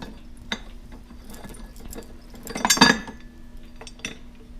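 Metal pasta machine parts being unscrewed and handled, a few light scattered clinks and taps with one brief louder clatter of metal on metal near the middle, close and otherwise quiet.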